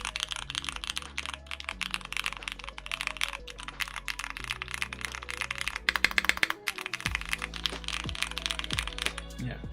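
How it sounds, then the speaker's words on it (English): Typing on a mechanical keyboard with Cherry petal switches: a rapid, continuous stream of crisp clacks, with a brief dense burst of keystrokes midway, heard over low background music. "How do the cherry petal switches sound and feel?"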